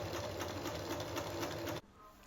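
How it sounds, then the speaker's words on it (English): A sewing machine runs a fast, even stitch along a half-inch seam on a hand-sewn Greenland flag, loud and close, then stops abruptly near the end, leaving quiet room noise. "I just sew along that 1/2 inch line as normal"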